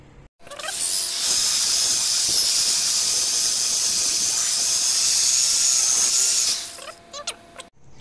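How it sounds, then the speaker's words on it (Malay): A polishing machine whines steadily and loudly against a car body, a sustained high-pitched drone that runs for several seconds before winding down and stopping. "sekarang ni kita tengah polish satu body"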